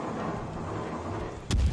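Naval artillery volley from a warship in World of Warships: a low rumbling background gives way to a sudden sharp boom near the end, loud and close.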